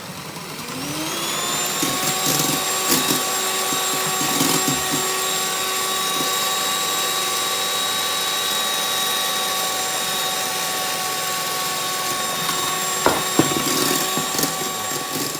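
An electric mixer whisks egg whites and sugar into a smooth, glossy meringue for an almond dacquoise, giving a steady high-pitched motor whine that holds evenly throughout with a few brief clatters of the beaters.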